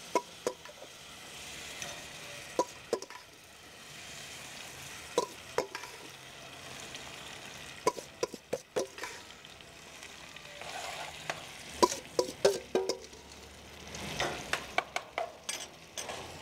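Shrimp mixture sautéing in a cast iron pan on an infrared gas grill, a steady close sizzle broken by repeated sharp clinks and scrapes of a utensil stirring against the iron.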